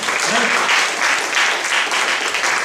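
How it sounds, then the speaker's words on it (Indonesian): Congregation applauding during a church fellowship service in Indonesia, dense, steady clapping that fills the space continuously and stays loud and close from start to finish. "Ayo kita berikan tepuk tangan."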